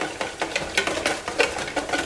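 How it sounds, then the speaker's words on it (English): Butter is whisked slowly into a sauce for eggs Benedict, giving quick, even scraping strokes of a whisk against a bowl in a steady rapid rhythm, close up and with no voices. "I'm just going to slowly whisk the butter in"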